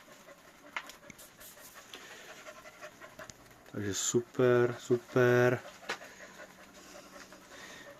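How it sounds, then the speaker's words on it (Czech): A stressed dog pants in quick, loud bursts close by inside a greenhouse at night, after a stretch of quiet background with faint bird-like chirps, while a person speaks briefly. "vystresovaný pes"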